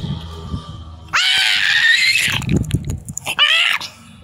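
A young, mischievous child screams indoors in two loud, shrill bursts, one long and one shorter, separated by brief rustling and a quieter stretch.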